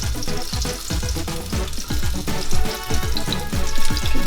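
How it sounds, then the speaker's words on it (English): Vegan chickpea flour fritters fry in a hot pan, giving a steady, loud, crackling sizzle that runs throughout with no voices. "It's cooking very fast because of the chickpea flour."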